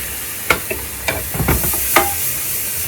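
Tomatoes and mushrooms fry in a pan for a quick and easy curry, giving a soft sizzle under several sharp scrapes and knocks of stirring, close and fairly loud.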